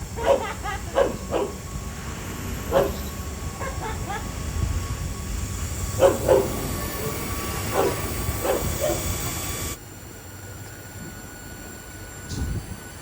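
A dog barks repeatedly outdoors in short bursts, with one cluster early and another midway, over a constant rumbling background that cuts to a quieter hum near the end.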